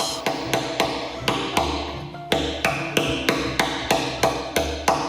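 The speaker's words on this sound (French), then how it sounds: "Avec sa masse et son aiguille, l'artiste tord, façonne, cisaille cette pierre" Steady, rhythmic hammer blows on a chisel carving volcanic stone, sharp metallic clacks about twice a second, close and loud with a brief pause midway.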